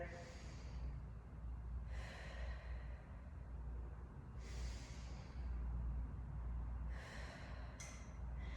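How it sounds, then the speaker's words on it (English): Deep, drawn breaths taken while holding a forward-folded stretch with the chest lifting off the legs, four broad airy inhale and exhale swells spread across the stretch over a steady low background hum. "getting 2 deep breaths here"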